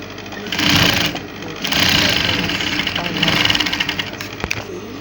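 Sewing machine stitching bustier fabric pieces, side piece to center piece, running in several loud continuous bursts with brief pauses between, a voice talking over the motor hum.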